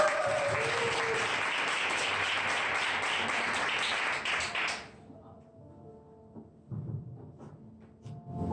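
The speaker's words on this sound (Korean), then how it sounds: "박수 부탁드릴게요." Audience applause welcomes the first presenter at a self-promotion presentation contest, a full burst of clapping that stops abruptly midway, followed by quieter talking.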